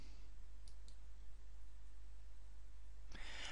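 A few faint, quick mouse clicks in quiet surroundings over a steady electrical hum, followed by a sharper click near the end.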